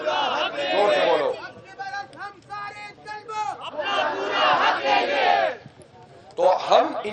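A protest crowd at a Jamaat-e-Islami sit-in chants slogans in loud bursts, a leader's amplified voice alternating with the massed response of many voices.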